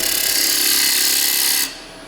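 A wood turning tool, a 55° detailer, cuts a dovetail tenon on a bowl spinning on a lathe, giving a loud, steady scraping hiss for under two seconds before lifting off to leave the lathe's hum.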